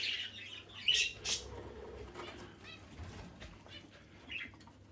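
Birds in a coop give a few sharp, fairly close squawks and calls early on, then sporadic fainter chirps over a steady background hum.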